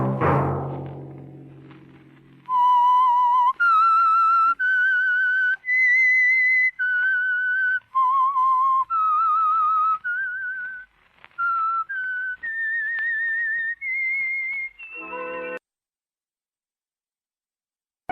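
A whistled melody serves as a radio show's theme signal, a clear solo tune of sustained notes that climbs and falls, following a brief opening strike and ending in silence.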